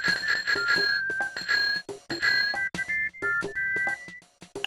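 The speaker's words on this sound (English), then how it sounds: "Pressing R button rings the bell." A bicycle bell in the video game EarthBound rings repeatedly with bright, clear chimes in quick bursts, close and loud, with no talking.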